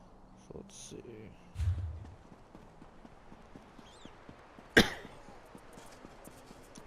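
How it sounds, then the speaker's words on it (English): A single sharp cough bursts out once, close and fairly loud, against a quiet background of low rustling and faint clopping. "And my cough still has yet to go away."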